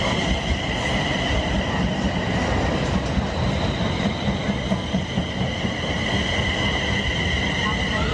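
A passenger train rumbles steadily through Wellingborough station at close range, wheels clattering and squealing faintly over a continuous loud roar, with a voice briefly audible beneath.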